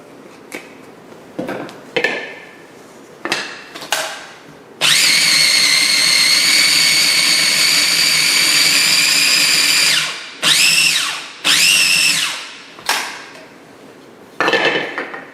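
A kitchen blender grinding a red snapper taco mixture with added oil, first in several short pulsed bursts, then one long steady high whine of about five seconds, followed by more quick pulses, loud and close with no talking.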